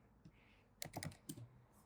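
Quick bursts of keystrokes tap out a search on a computer keyboard, a short irregular run of close, quiet clicks with brief pauses between clusters.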